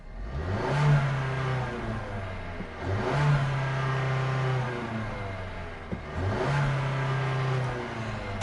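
A 2019 Ford Edge 2.0 turbo engine revs up three times in steady surges, each climbing in pitch then settling back to a throaty idle, close and loud.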